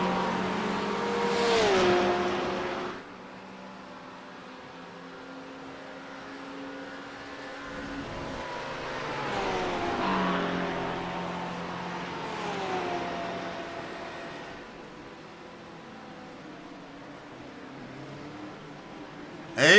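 GT3 race cars at Suzuka circuit run through the chicane into the final turn, engines winding up and down as they pass at a moderate distance, with a quieter stretch between rising drones.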